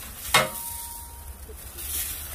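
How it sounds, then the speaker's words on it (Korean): Pork sizzles on a hot wood-fired grill close by, with a sharp burst of crackling at the start, then a steady hiss and faint scraping. "고기는 기가 막히게 익네. 지글지글."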